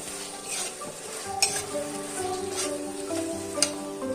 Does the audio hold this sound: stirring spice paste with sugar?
yes